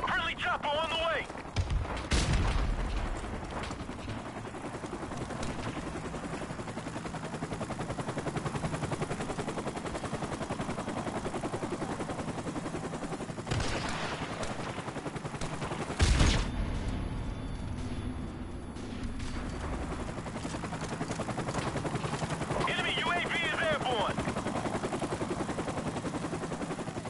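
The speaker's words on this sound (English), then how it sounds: "Friendly chopper on the way!" Gunfire and a friendly helicopter in the video game Modern Warfare Remastered: sustained loud bursts of automatic fire and booming shots, with a continuous rotor-like drone underneath and occasional sharp impacts.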